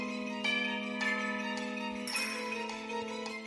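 Clock bell and church-style bell tones ringing in a French château, a steady sustained chime with repeated strikes roughly every half second to second, resonant and fairly close, no talking.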